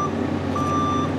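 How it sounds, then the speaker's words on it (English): Steady electronic beeping tone from a MIG welding setup for aluminum, repeating over a continuous background hum, fairly loud with no pauses. "Sorry about all the beeping."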